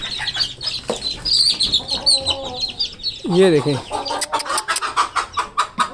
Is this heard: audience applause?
no